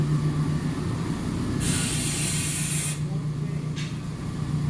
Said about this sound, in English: clearing the manifold out with the air compressor on site